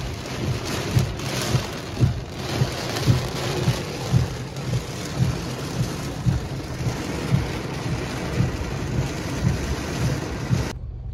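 Heavy rain and a thunderstorm pound a car during a drive through flooded streets in Lublin, a dense, steady drumming on the roof and glass with regular rhythmic thumps from the windshield wipers running throughout.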